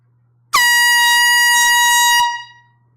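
A celebratory air horn gives one loud, sustained blast at a live record sale, lasting under two seconds and then cutting off sharply, close and alone.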